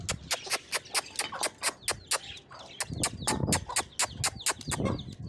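Chickens and chicks cluck and peep in a busy, overlapping chorus near a small farm coop while soft bread is being fed to them, with sharp repeated calls throughout and no talk.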